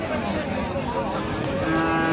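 Friesian heifer calves lowing at a busy cattle market in Raniganj, Dinajpur, with a steady, drawn-out moo over dense crowd noise, fairly loud and continuous throughout.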